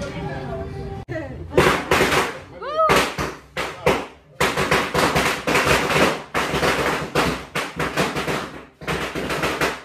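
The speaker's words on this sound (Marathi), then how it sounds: "फटाके लावतात" Firecrackers burst in rapid sharp cracks, one after another, loud and close, during a Ganesh Chaturthi homecoming, with crowd noise and voices chanting between the bangs.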